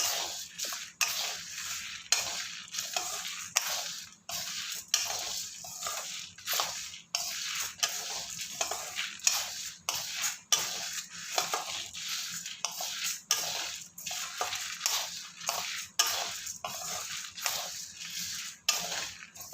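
Ingredients for raw plantain podimas being dry-roasted and stirred in a pan, a steady rhythm of soft scraping and rattling strokes, close and fairly quiet, with no talking.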